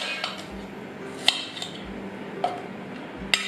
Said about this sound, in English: Chop them up